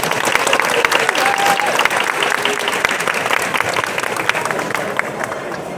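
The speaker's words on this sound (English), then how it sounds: "So let's give a round of applause to our kids contestants." Sustained crowd applause for child contestants at a cosplay competition, steady dense clapping throughout with faint cheering, fading slightly toward the end.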